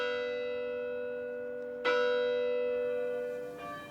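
Village church bells ring out the evening peal, no longer rung by hand, with long humming tones and two fresh strikes renewing the ringing, heard from a distance with no voices.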